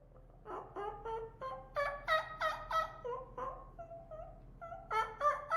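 A man imitates a wild turkey hen with his mouth: a run of rhythmic, nasal yelps and clucks, fairly close and clear, in rising bursts with short pauses between them.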